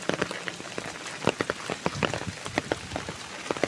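Rain falls on a grassy garden with a steady close patter of drops striking surfaces, broken by scattered sharper splats throughout.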